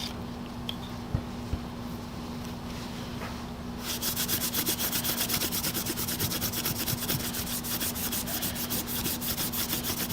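Scotch-Brite pad scrubbing corrosion off a pair of BMC No. 9 locking pliers; a faint start gives way after about four seconds to a steady, rapid back-and-forth rasping that continues close and even to the end, with no talking.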